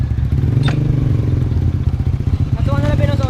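A motorcycle engine runs close by with a loud, steady low rumble and mechanical clatter throughout, and a brief rising whine near the end, under faint voices.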